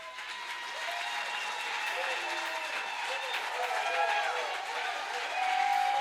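A standing church congregation at a Sunday service gives an offering of acclamation, with moderate, somewhat distant clapping blended with voices and cheering while tonal speech or singing runs over it.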